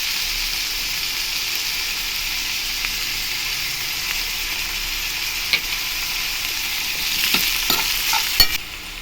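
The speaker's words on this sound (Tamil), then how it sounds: "போட்டு எண்ணெயிலையும் நல்லா கொஞ்சம் இதை ஃப்ரை பண்ணிடலாம்" Brinjal pieces fry in oil with salt in a pan, giving a loud, even sizzle throughout, with a few scraping stirs and taps of a spoon toward the end.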